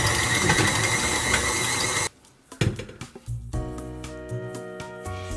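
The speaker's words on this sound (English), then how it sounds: "Now I'm going to switch over to my dough hook." Stand mixer fitted with a dough hook kneading cinnamon roll dough: loud steady mechanical whir and rattle for two seconds, then stopping, followed by quieter clanks and a lower motor hum.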